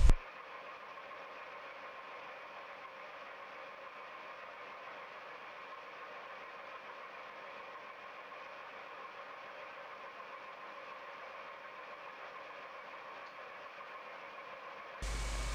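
A machine, likely a lathe or mill, runs steadily while a wobbler centres a metal bar, giving an even, moderately loud mechanical hum that holds for about fifteen seconds before a brief change at the end.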